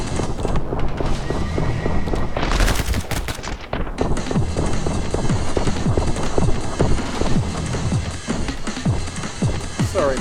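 Gunfire rattles almost nonstop while enemies are shot in the video game My Friend Pedro, a quick run of sharp shots with a louder, denser burst partway through.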